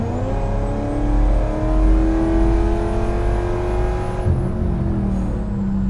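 A 1200-horsepower Dodge Hellcat accelerating, with a loud deep engine roar and a rising whine climbing steadily for several seconds before easing off, heard from inside the car.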